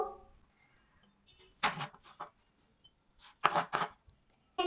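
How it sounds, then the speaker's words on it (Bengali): Knife chopping ginger on a cutting board: two short clusters of quick, close, crisp cuts separated by pauses, in a quiet room. "প্রথমে আমি আদা কাটবো।"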